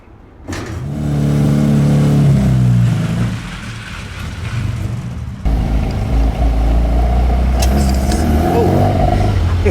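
A cold Lancia 037 rally car engine fires up and revs roughly, a loud, close rumble that dips briefly, then settles into a steady, throaty idle.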